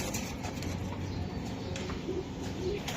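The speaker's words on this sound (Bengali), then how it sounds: "এই যে হোয়াইট কবুতর" A white racing pigeon coos softly and faintly in a couple of short low murmurs, set against a quiet, rustling background.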